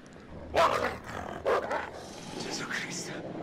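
A wolf in the video game Until Dawn growls in two loud, rough bursts, followed by lower rumbling.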